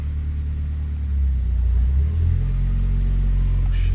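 A Mitsubishi Evo rolls forward in drive with a low, steady engine rumble that swells slightly as it pulls away, close and continuous.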